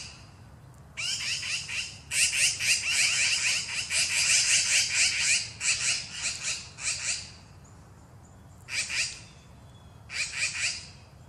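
Magpies gathered around a carcass, played back from a video, give harsh rapid chattering squawks in several bursts, fairly close and loud with short pauses between calls.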